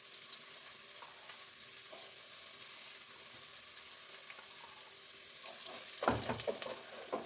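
Okra curry sizzles quietly in a pan with steady frying crackle, then roasted coconut, chilli and coriander paste drops in with a burst of louder splattering and stirring near the end.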